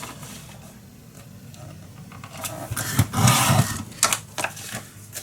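Paper for a handmade mini album is cut along a ruler, giving soft scraping and rustling at first, then a burst of louder, close crisp cutting strokes and rattles near the end.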